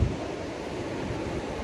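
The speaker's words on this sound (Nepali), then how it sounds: "उता परसम्म यता समुद्रको राम्रो आवाज छालहरू देखिन्छ।" Sea waves wash onto Werrong beach in a steady, rushing roar, with wind buffeting the microphone throughout.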